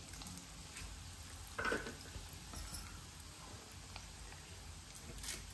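Mustard seeds and dried red chillies temper in hot oil, making a faint, continuous crackling sizzle with a few small pops and light clinks, heard close and without talk.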